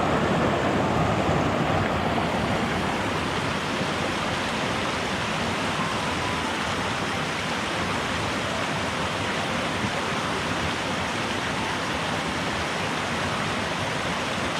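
A creek in Georgia's Vogel State Park rushes steadily during a snowy hike, a constant loud broadband wash of flowing water with no voices heard.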